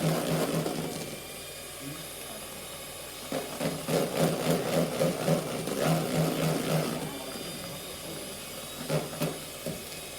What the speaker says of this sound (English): I'm just going to see if I can whisk it for about 30 seconds